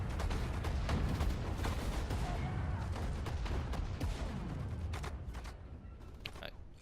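Dense, continuous rumble of rapid gunfire and booming explosions from the PS4 strategy game Sudden Strike 4, loud and sustained throughout, thinning slightly toward the end.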